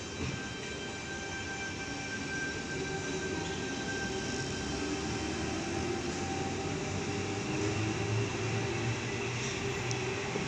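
The rear four cars of Sydney train T48 roll through Blacktown station, a steady, continuous rumble with a faint high whine, holding level without voices.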